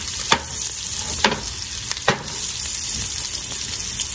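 A T-bone steak sears in a pan with a steady, loud sizzle and crackle throughout, broken by a few sharp spits and pops.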